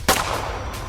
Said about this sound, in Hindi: सुशील दूसरी गोली भी चला देता है